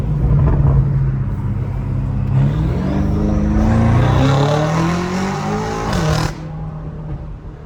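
Loud BMW M5 Competition exhaust roaring through rising revs and a gear shift, with a brief dip and pitch drop mid-pull before the engine settles to a lower drone near the end.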